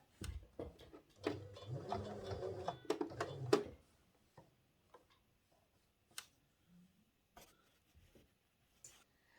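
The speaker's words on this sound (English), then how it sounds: "Just stitch this collar on the collar stand." A sewing machine stitches a shirt collar onto its collar stand in a dense, rapid mechanical run of about two seconds, close and fairly loud, followed by scattered light ticks and clicks in a quiet room.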